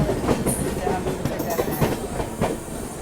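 The Lucknow–Anand Vihar double decker superfast express train runs past, a loud steady rumble of rail cars with rhythmic clickety-clack wheel beats and a few sharp clatters close by.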